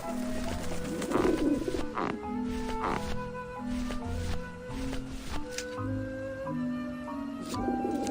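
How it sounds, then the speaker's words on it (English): Pigeons in the game Grim Fandango Remastered, repeated soft low coos in a loose rhythm over a background of game music and ambience, moderately close. "I don't like the looks of those pigeons."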